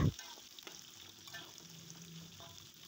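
Tofu frying in used oil left over from frying tempeh, a steady broadband sizzle with occasional soft stirring scrapes, close and even throughout with no talking.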